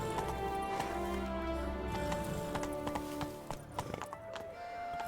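Horse hooves clip-clopping at a steady galloping rhythm in the video game Witcher 3, continuous and fairly close, with game music and ambient tones underneath and no speech.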